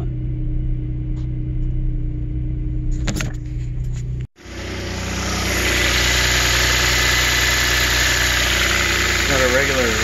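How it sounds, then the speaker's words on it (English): A Volvo engine idles with a rattly top end, a steady low rumble with a light mechanical clatter; midway it briefly cuts out, then returns louder with a broad hiss, and a voice speaks faintly near the end. "Got a regular rattly top end."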